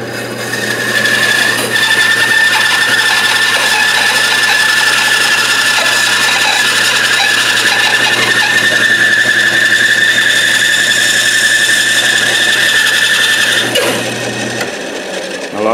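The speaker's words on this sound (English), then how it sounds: "I've opened up my bandsaw, and now I'm going to cut the side profile first" Bandsaw with a 3/16 inch skip tooth blade cuts the side profile of a wood carving blank for a Native American bust, a loud continuous motor hum and rasping cut lasting about fourteen seconds before winding down.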